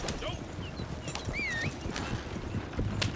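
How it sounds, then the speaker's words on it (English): In a video game, a horse following behind a wagon makes repeated clip-clopping hoof beats and briefly whinnies, with steady rolling background noise and a person talking over it. "we'll call for that horse to come in behind my wagon"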